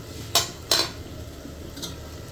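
Two sharp clanks of a utensil against a pot as tomatoes go into meat cooking down in oil, then a fainter knock, close and alone with no voices.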